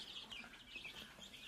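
Hen clucking softly near its nest in a farmyard, a faint, continuous murmur of low clucks and calls at a moderate distance.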